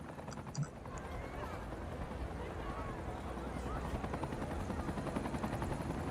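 A Cities Skylines 2 helicopter's rotor chops steadily in the background, a continuous throbbing drone with some faint activity layered over it.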